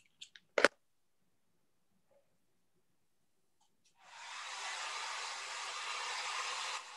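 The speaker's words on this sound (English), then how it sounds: "A blow dryer?" A blow dryer switches on after a few brief sounds and a long near-silent pause, then runs as a steady, loud, breathy whoosh through to the end.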